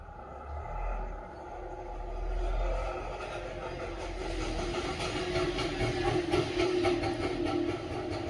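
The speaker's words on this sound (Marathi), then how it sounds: "रिक्षा जाते गलीमधून वाहने चालूच राहतात" An auto rickshaw and other vehicles pass along a lane outside, a steady rumble of traffic with engine drone that swells and fades as they go by, moderately loud throughout.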